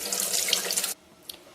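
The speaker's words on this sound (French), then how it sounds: "Je lave mes brins de persil sous l'eau du robinet." Running tap water splashes steadily over parsley sprigs for about a second, then cuts off abruptly, leaving a faint drip and quiet room tone.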